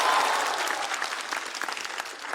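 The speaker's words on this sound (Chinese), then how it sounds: "我们掌声再次送给陈爱。" Studio audience applauding a contestant on a comedy competition show, dense clapping that starts strong and gradually thins out over a couple of seconds, with faint crowd murmur.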